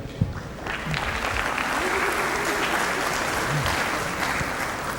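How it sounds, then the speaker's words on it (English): Round of applause from an audience at an orientation session, a full, steady patter of many hands clapping that rises quickly and holds evenly, with faint voices murmuring beneath. "a round of applause for each of you"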